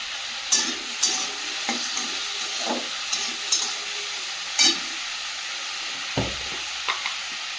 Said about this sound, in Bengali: রান্না করছি সকালে ডাল আর আলু ভাজা